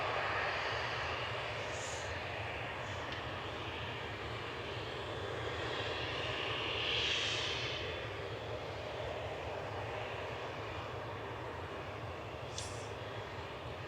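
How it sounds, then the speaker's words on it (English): A Helvetic Embraer 195 jet departs Manchester Airport bound for Zurich, its engines a steady, moderately distant roar that swells briefly near the middle of the clip and then holds, with no voices. "Helvetic's going next, another Embraer 195 this time."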